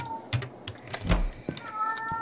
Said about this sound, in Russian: Блин, кот, хватит кричать.